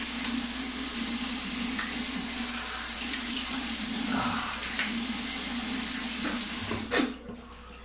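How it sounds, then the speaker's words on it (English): A tap runs cold water for a rinse during a wet shave, a steady close hiss of flowing water that stops abruptly near the end, with no talk. "cold water rinse."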